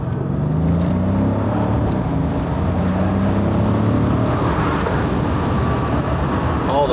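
Mercedes-Benz R231 SL hardtop roadster pulls away from a stop, its engine rising in a smooth, loud drone with climbing tones as it gathers speed, heard from inside the car.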